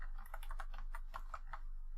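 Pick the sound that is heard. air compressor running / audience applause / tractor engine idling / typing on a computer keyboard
typing on a computer keyboard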